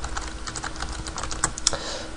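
Rapid, close typing on a computer keyboard, a steady patter of key clicks with a couple of sharper strikes, over a faint background hum.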